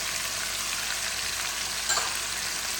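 Onions, garlic and herbs frying in a pan for a chicken and king prawn paella, a steady close hiss with one brief stir scrape and no talking.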